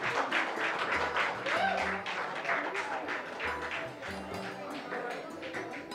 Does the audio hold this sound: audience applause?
yes